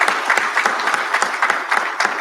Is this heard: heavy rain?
no